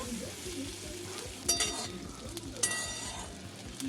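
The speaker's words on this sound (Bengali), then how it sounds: "তেল হয়ে গেছে, ঢেঁড়সগুলো দিয়ে দেবো" Oil with turmeric sizzles steadily as okra fries in a pan, with a couple of sharper clinks or stirring scrapes standing out, close and moderately loud.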